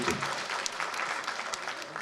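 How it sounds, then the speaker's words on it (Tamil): Short burst of audience applause at a Tamil speech, dense clapping that stays fairly even and moderately quiet over about two seconds. "கைத்தட்டலாம்"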